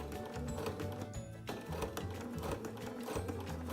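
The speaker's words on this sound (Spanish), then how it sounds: "Simplemente vamos dando puntadas como las que estáis viendo." Sewing machine stitching fabric in a steady run of rapid mechanical stitches, with a brief pause midway before the needle chatter resumes, close and moderately loud with no talking.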